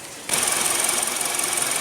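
A 2015 Hyundai Elantra's 1.8-liter four-cylinder engine runs at a steady idle, a close, even hum that starts abruptly and holds constant with a light mechanical ticking.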